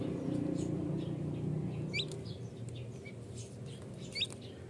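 Newborn turkey chicks chirp faintly in short high peeps over a low background hum, a few scattered calls rather than a steady chorus.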